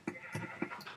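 Quick, faint bleats in a steady run, four short calls in about a second, from a sheep in Minecraft on a Mineplex server, with no voices.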